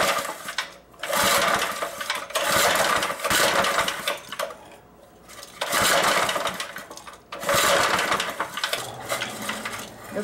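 Old Montgomery Ward rototiller engine pull-started while flooded after sitting over a year, three long, loud ratcheting pulls of the recoil cord with the engine turning over but not catching, with short pauses between each pull.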